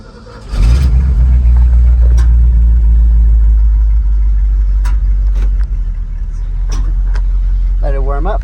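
A 1970 Ford 600 hay truck engine starts and idles while warming up, a loud steady low rumble after the catch, with brief voices speaking over it near the end.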